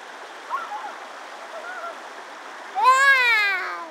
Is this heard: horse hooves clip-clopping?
no